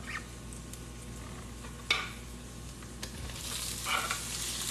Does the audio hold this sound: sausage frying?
yes